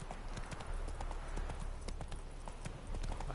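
Roach the horse trots in The Witcher III, a quick steady clip-clop of hooves close up, with faint background game ambience.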